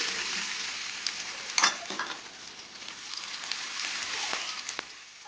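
Onion sizzles and fries in a pan while being stirred, with a steady hiss and occasional clinks and scrapes of a utensil against the pan.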